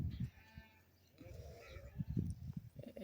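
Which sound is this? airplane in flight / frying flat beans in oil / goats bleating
goats bleating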